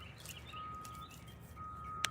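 Songbird chirping outdoors beside a fishing stream, a few thin high calls sounding softly over steady flowing-water ambience.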